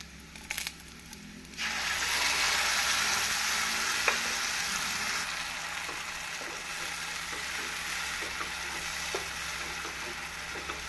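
Ground tomato is stirred into frying onions, bringing a steady loud sizzle after a brief quiet start, with intermittent utensil scrapes and taps through the frying; no voices.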